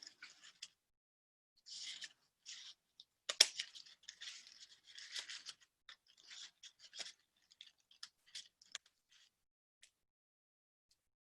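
Scissors cutting paper up close: a quiet, irregular run of crisp snips and rustles, with pauses between cuts and no talking.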